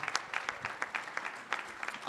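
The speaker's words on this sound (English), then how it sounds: "One more round of applause to all of our hackathon finalists." Audience applause for hackathon finalists at a live competition event, a short burst of scattered clapping at moderate volume with a voice speaking over it.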